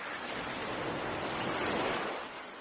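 Waves wash over pebbles and rock fragments along the shore of Changdao, China, in a continuous broad rush of surf that swells and then eases, with no voices.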